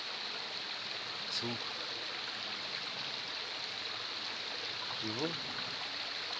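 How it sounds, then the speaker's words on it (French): Small mountain streams and little cascades flow steadily in an unbroken broadband rush, with a voice speaking briefly over the water. "Avec les petites cascades, comment c'est beau."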